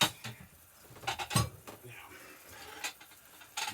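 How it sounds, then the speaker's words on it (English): Dishes, pots and pans clatter and clink at a kitchen sink while spaghetti is prepared, with a sharp loud clank near the middle and lighter knocks scattered throughout. "Sorry for all the noise, but you know, dishes are dishes."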